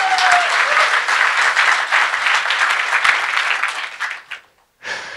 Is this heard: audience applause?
yes